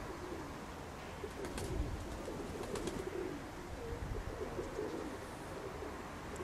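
Pigeons coo softly and repeatedly inside a loft, low throaty calls layered over a constant faint background hum, with no one speaking.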